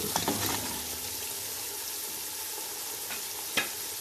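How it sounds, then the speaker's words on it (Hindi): Masala for kadhi fries in a pan with a soft, steady sizzle and a few stirring scrapes, faint and close, with no talking. "2 से 3 मिनट के लिए भून लेंगे।"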